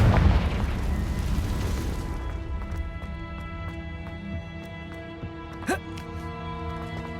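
A Confringo fire spell blast in the video game Hogwarts Legacy: a loud, dense burst of roaring noise for about two seconds, then quieter ringing tones and a few soft thuds and clicks in the background.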